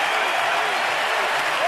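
Baseball stadium crowd cheering and clapping in a steady, dense roar during a fifth-inning at-bat, Dodgers at Nationals, sustained and loud throughout.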